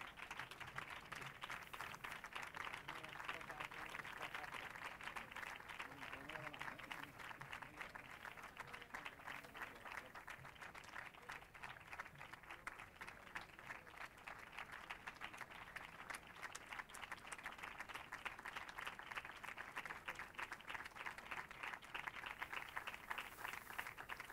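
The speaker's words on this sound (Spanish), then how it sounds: "Les pido ese aplauso." Sustained applause from a crowd at an award ceremony, dense steady clapping continuing for a long stretch at a distance, fairly faint.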